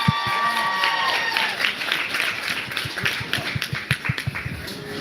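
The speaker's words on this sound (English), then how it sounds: "Round of applause." Audience applause at a live makeup sit-down event in New York, a burst of clapping with scattered cheers from a crowd, fairly close, with a voice talking over part of it.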